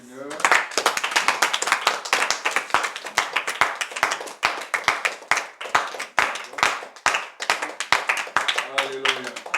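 A congregation at a church service claps loudly and steadily in rhythm, sharp hand claps repeating about twice a second for the whole stretch, with voices singing or calling out beneath them.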